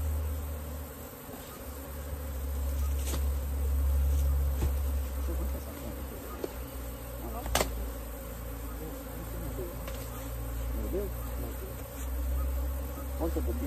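A dense swarm of bees buzzes loudly and continuously as it is shaken off a branch, the hum swelling and easing with a few sharp knocks and rustles, close by and without talk.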